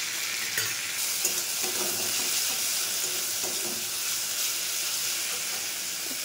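Onion paste and chopped green chilies fry in hot oil for a prawn bhuna, a dense continuous sizzle with soft stirring scrapes, close and loud, with no talk.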